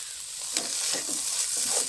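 A pumpkin halwa cooks in oil and ghee in a pan, with a steady soft sizzle broken by several scraping stirs of a spoon against the pan, close and fairly quiet, with no voices.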